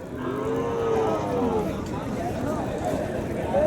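Cattle at a Kundharapalli native-breed livestock market, including a heifer calf, lowing in long moos close by amid a busy crowd, with people talking throughout.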